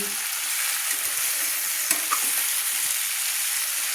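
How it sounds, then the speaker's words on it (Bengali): Eggplant and vegetables frying in a pan for a fish-head and greens curry, a loud constant hiss of oil with faint stirring scrapes and one brief clink partway through. "দিয়ে আমি ভালো করে সুন্দর করে সবজিগুলো মেরে নিচ্ছি"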